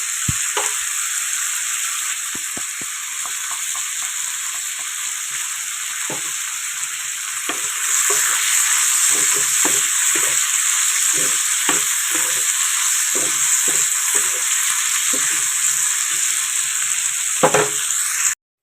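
Cut potatoes and radish fry in a pan tempered with black cumin, giving a steady, loud sizzle throughout with occasional stirring scrapes and clicks over it.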